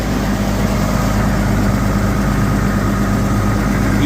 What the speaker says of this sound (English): Right now the tractor's been running